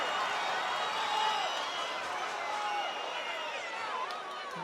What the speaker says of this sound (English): Listen to the crowd in Fajardo.